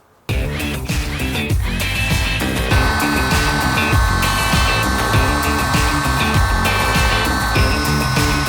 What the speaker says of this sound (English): I'll just drill a little hole down into this cowling